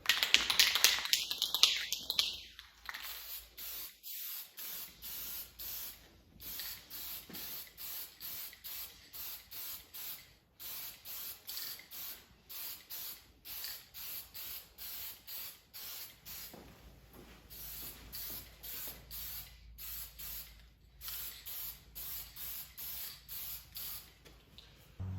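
A spray can lays a matte clear coat onto a rifle in a long series of short, even hissing bursts, each about half a second with brief gaps, plus a faint rattle and tap near the start.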